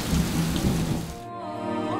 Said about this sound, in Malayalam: തോരാതെ പെയ്യുന്ന മഴ.